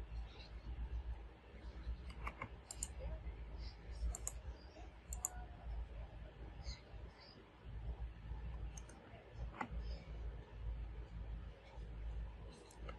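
Computer mouse clicks while processing Shopee dropship orders in a seller center, a series of soft, scattered clicks over a low background hum, with quiet speech faintly underneath.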